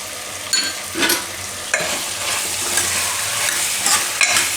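Masala being stirred in a pressure cooker with tindora and potato curry, a spoon scraping and clanking against the metal at irregular intervals over a soft sizzle.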